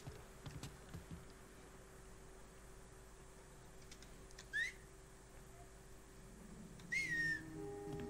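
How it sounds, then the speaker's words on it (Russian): A character in the video game Mafia 3 whistles faintly, two short rising whistles several seconds apart over a quiet steady game ambience with a low hum. "Что он свистит так еле тихо?"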